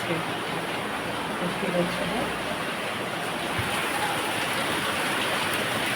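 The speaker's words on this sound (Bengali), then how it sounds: "অঝরে বৃষ্টি পড়ছে" Heavy rain falls steadily on a jackfruit tree beside a house, a dense, even hiss that fills the scene without pause.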